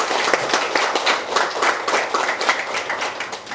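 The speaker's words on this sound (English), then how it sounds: "let's give a round of applause for the Board of Trustees" An audience at an anniversary media launch for a hunger relief trust fund claps for its board of trustees. The claps are close, distinct and rhythmic, dense at first and gradually thinning toward the end, with no talk.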